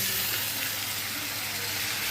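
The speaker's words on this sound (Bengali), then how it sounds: "তো আমি টমেটো কুচিটাকে দিয়ে দিচ্ছি" Chopped tomato frying in a pan, giving a dense, steady hiss of sizzling oil at close range with no talk.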